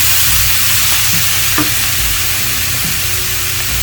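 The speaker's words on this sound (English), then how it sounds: "when I stir this, I can feel the bottom of that pan is starting to get a little bit dry" Close, loud scraping and stirring of spinach artichoke dip in a pan that is starting to dry, over a constant sizzle, with a few distinct scrapes against the bottom.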